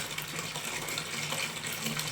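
Water runs steadily from a newly installed tap in a bathroom, a continuous, fairly strong gush heard close and alone for about two seconds.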